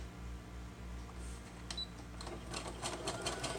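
A sewing machine running a zigzag stitch on a paper-and-fabric craft piece, a low steady whir at first, then quicker clattering stitch bursts toward the end, close and fairly quiet.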